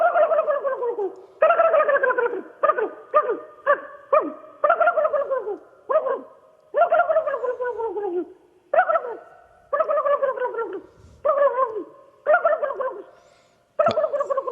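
A person imitates a wild turkey gobble, giving a long series of rapid gargling, descending bursts in short clusters, loud and close with brief gaps between.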